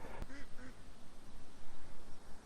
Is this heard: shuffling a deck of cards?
no